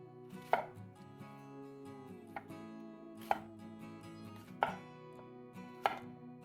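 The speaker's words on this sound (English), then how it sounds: "Now we'll cut this into large sections." A knife cuts an onion into large sections on a cutting board, five crisp separate chops spaced about a second apart, with soft background music underneath.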